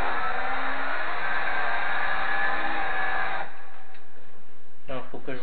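A Renault Laguna V6 touring race car engine in the video game Gran Turismo 2 whines at steady high revs, then drops away to a lower burble before a brief rev near the end.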